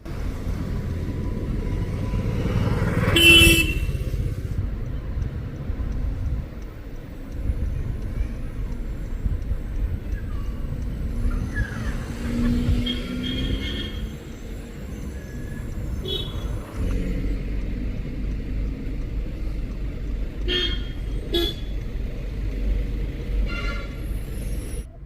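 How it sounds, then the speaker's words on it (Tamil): Heavy road traffic on a road beside the Muthanga forest in Wayanad: a steady rumble of passing vehicles, with a louder surge early on and a few short, sharp tonal bursts near the end. "நிறைய டிராஃபிக் வழக்கத்தை விட இன்றைக்கி அதிகமாகவே இருந்துச்சு."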